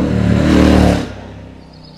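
Triumph Street Scrambler motorcycle, newly launched in Brazil, with its engine giving a loud, broadband rev that swells and then drops away after about a second, leaving a quieter low rumble trailing off.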